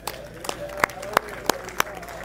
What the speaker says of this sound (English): Give the Lord a hand clap and a shout.